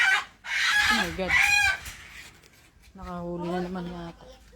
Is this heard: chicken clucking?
yes